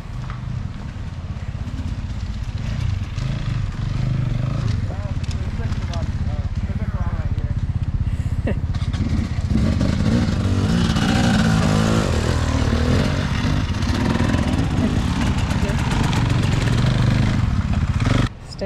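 Dirt bikes riding past on a trail near a lake campsite, their engines droning and revving loudly and continuously while people talk over them.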